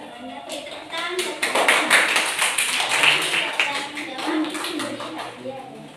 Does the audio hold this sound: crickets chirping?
no